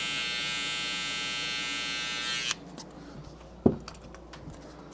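Hair clipper trimmer edging a curly-hair taper fade, a steady close electric buzz running for a couple of seconds before switching off, followed by quiet handling noise and a single soft knock.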